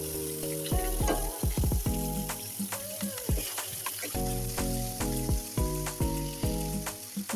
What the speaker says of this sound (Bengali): মশলা কষানোর জন্য পরিমাণ মতো তেল ঢেলে দিই। পেঁয়াজ রসুন বাটা,